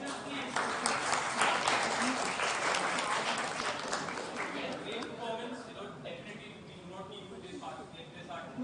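A quiz grand-final audience applauds the competing teams, with loud, dense clapping for about five seconds that then thins and fades while a speaker's voice takes over.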